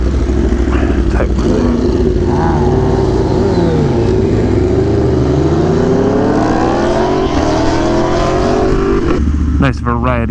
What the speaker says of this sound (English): Nice variety of bikes and sounds.